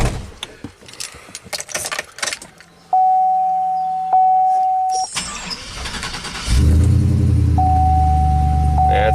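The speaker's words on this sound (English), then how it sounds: "That sounds pretty mean. It's probably got an aftermarket exhaust." A GM Quadrasteer truck with an aftermarket exhaust cranks over and fires up after some clicks and key jangles, settling into a loud, deep, steady idle with a high chime tone coming and going.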